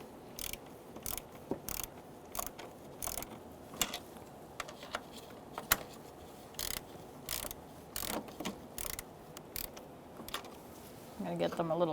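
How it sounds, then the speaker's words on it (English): A torque wrench tightens throttle body studs on a 2000-2007 Ford Taurus 3.0L V6 intake manifold, giving faint, repeated ratcheting clicks in short irregular bursts over a quiet workshop background. "we're going to torque our throttle body studs to 53 inch-pounds"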